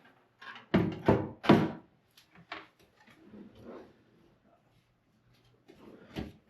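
A drawer in a modern Mexico City apartment slides and bumps shut, several close wooden thunks and scrapes in quick succession early on, followed by quieter handling noises and a final knock.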